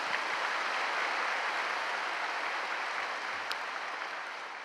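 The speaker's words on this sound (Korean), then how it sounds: "서로 수고했다고 박수 한번 치겠습니다" A church congregation at a Friday worship service applauds one another, a steady, even wash of many hands clapping in a large hall that slowly fades toward the end.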